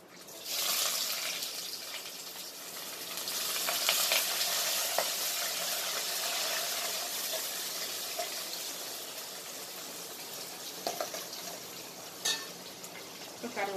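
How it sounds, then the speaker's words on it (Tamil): Onions and fennel seeds fry in a pan for a home-style vegetable biryani, a steady close sizzle with occasional stirring scrapes and clinks running throughout. "சோம்பு பொறிச்சு நல்லா செவந்துருச்சு. இப்போ வெங்காயம் சேர்த்துக்கோ."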